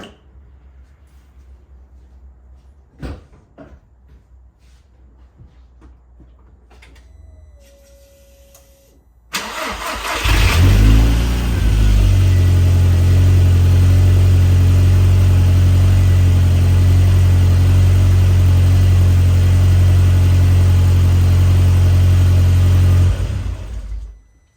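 A VW Mk4 GTI with a 1.8T engine, just fitted with a 2.0T coil pack conversion, cranks and catches with a sudden loud start near ten seconds, then holds a steady, strong idle with some revving until it shuts off at the end.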